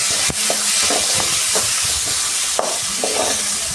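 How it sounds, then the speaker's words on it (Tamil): Chopped onions sautéing in oil with mustard seeds and urad dal, a steady close sizzle and hiss broken by intermittent scraping stirs in the pan. "கட் பண்ணி வச்ச பெரிய வெங்காயம் ஒரு ஆறு வெங்காயத்தை சேர்த்து நல்லா வதக்கணும்"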